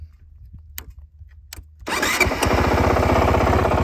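A Honda 450RL motorcycle engine starts after a couple of brief clicks, catching suddenly and settling into a loud, close, steady idle with a fast even pulse; no voices.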